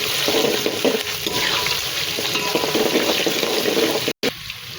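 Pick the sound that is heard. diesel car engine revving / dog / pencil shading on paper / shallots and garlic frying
shallots and garlic frying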